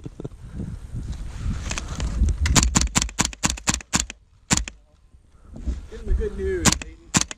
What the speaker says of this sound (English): Oh, Jason, he's shooting at you!